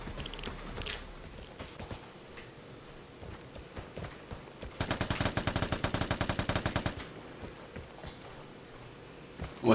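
Rapid automatic gunfire from the shooter game Vigor, a dense burst of evenly spaced shots lasting about two seconds in the middle, with scattered footsteps and smaller clicks and thuds around it.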